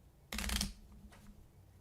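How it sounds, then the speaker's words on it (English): Cards being shuffled during a Frosthaven board game session: one short, dense riffling burst lasting about a third of a second, then a fainter brief rustle, close by in a quiet room. "But I do need to shuffle them up."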